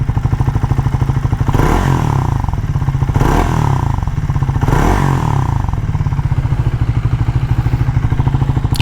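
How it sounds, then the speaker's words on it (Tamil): A Triumph Tracker 400 motorcycle idles at about 1000 rpm, its exhaust note a loud, steady, close thumping beat with a few brief swells in the middle. "The exhaust note."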